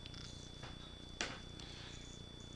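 Domestic cat purring close up, a faint, steady low rumble that holds for a couple of seconds, with a brief sharp noise partway through.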